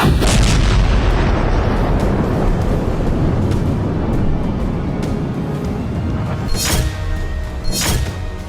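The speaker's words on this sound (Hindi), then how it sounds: "पुतिन की ब्रिगेड ने यूक्रेन के अलग अलग रीजन में सिर्फ और सिर्फ आसमानी प्रहार किया।" Artillery and missile strikes in the Ukraine war rumble as a dense, loud roar of distant blasts and booming fire, with a few sharper reports near the end and no voices.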